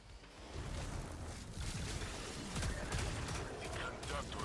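Gunfire in Destiny 2 as a player shoots at boxes to open a secret chest, a dense rattle of shots running steadily throughout with a voice talking over it.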